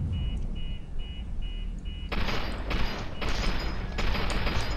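Short, loud bursts of submachine gun fire aimed at a sniper in F.E.A.R. 2 ring out close after a run of repeated electronic beeps, in three or four rapid volleys over a low rumbling backdrop.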